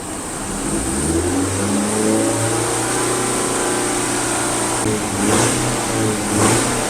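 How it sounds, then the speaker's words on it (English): A 2021 Ford Transit Connect engine, tested for a fuel mileage loss, is raised to high idle, a loud steady close hum that climbs and swells in a couple of revving surges near the end. "open the valve up, raise the idle"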